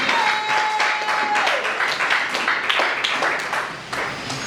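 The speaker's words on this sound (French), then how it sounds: "Est-ce qu'on peut acclamer pour le Seigneur?" A church congregation at a Sunday worship service claps loudly and continuously in praise, a dense wash of many hands near and far with no pauses.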